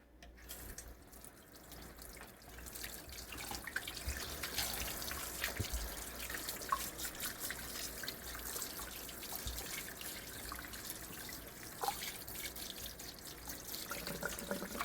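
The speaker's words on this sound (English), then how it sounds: "Let me wash my hands right quick." A kitchen tap runs steadily as hands are washed under it, with a soft continuous stream, splashing and occasional drips into the sink, fairly quiet and close, with no talking.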